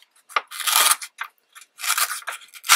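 Scissors trimming paper for origami envelopes: several quick, crisp snips and longer slicing cuts in irregular bursts, close and clear with no talk.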